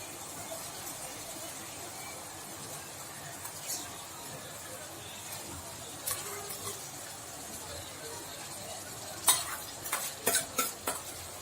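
Onions and crushed tomatoes fry in a pan for dhaba-style rajma, a soft steady sizzle under a faint hum, with a spoon scraping and stirring in a few quick clinking strokes near the end.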